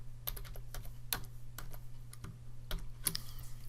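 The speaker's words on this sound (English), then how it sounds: "I'm going to type equals VLOOKUP" Computer keyboard typing a spreadsheet formula: a run of quick, uneven key clicks for a few seconds, close and fairly quiet, over a steady low hum, with no voices.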